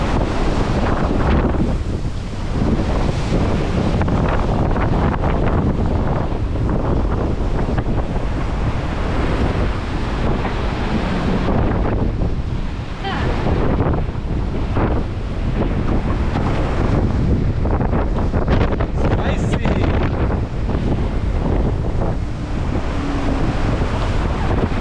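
Gale-force wind gusting near 50 knots roars across a doublehanded racing sailboat crossing the Atlantic, with loud continuous rushing wind, buffeting on the microphone and waves surging and crashing close by.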